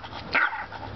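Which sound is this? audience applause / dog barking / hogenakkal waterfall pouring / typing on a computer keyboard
dog barking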